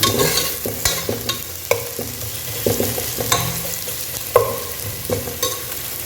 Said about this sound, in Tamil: வெங்காயம் பாருங்கள் நல்லா ப்ரௌனாக மாறிடுச்சு பாருங்கள்